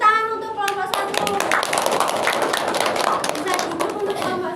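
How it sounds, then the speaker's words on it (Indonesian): Classroom of students clapping for a group after its presentation in a history lesson, brisk sharp handclaps close by, mixed with children's chatter and a voice at the start. "Beri tepuk tangan untuk kelompok 1."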